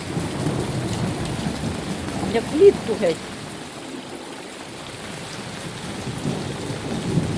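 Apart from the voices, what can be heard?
thunderstorm with heavy rain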